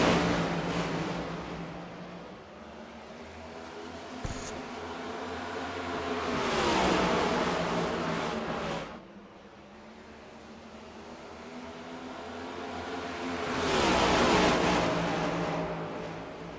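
Race car engines roar at a restart in an IORA Cup Series racing video game, swelling and fading in two long waves as the pack accelerates, with no talking over them.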